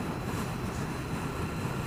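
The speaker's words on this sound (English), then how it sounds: "it is windy out here today" Strong wind blows outdoors on a country lane, a continuous rough roar that buffets the microphone steadily from start to finish, with no voices.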